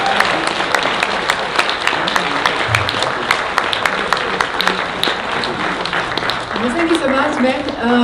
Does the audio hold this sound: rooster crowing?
no